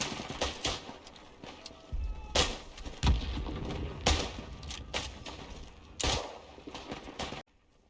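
Single revolver shots fired in the World War I shooter Isonzo, several loud, sharp cracks spaced a second or two apart with clattering handling noise between them.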